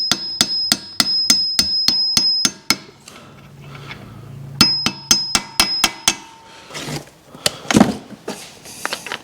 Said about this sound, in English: You always want to pound on a race that's getting pressed.